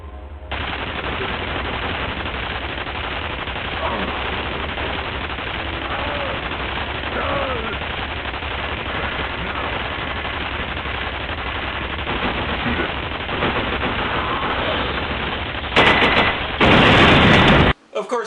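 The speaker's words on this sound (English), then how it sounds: "Fortunately, you have a turret to play with that'll help you immensely." Turret machine gun firing in the video game F.E.A.R., a long continuous loud rattle of automatic fire with a harsher burst near the end; a voice may sit under the gunfire.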